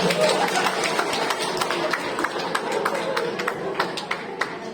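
A room full of people claps at a gathering, steady and dense for several seconds with sharper single claps poking through. Voices murmur under the applause.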